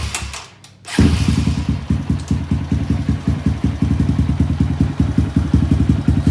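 Kawasaki D-tracker motorcycle engine cranked with the starter, firing up after a short pause and settling into a loud, close, steady idle with even, rapid clattering pulses.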